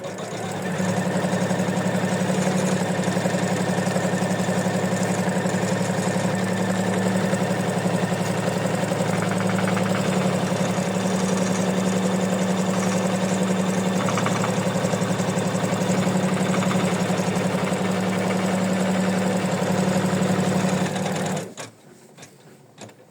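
A sewing machine stitches the placement line on a fabric postcard, a steady, close mechanical whirr with a regular rapid needle beat that runs without pause for about twenty seconds, then stops abruptly.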